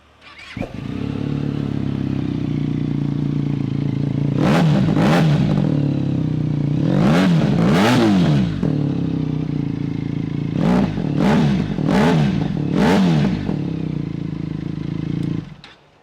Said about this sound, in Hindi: This is a twin cylinder motor guys, ये ट्विन सिलेंडर बाइक है, इसकी आवाज़ मज़ेदार है।